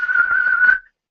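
A person whistles a single steady, clear tone into a laptop microphone for a sampler recording, close and fairly loud, holding just under a second before stopping abruptly.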